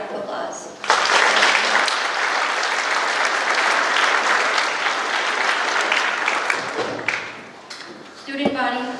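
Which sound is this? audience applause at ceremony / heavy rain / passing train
audience applause at ceremony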